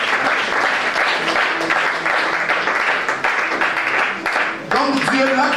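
A church congregation at a French-language Bible sermon on Genesis breaks into loud, sustained applause and cheering, steady throughout with voices mixed in and a brief dip before it swells again.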